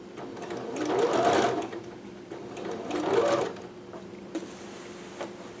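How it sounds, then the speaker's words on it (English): A domestic sewing machine stitches a dress and sews straight through the boning, its whirring motor rising and falling in two bursts over steady background hum, with a few light clicks near the end. "I'm still going to keep going, just sew right through that"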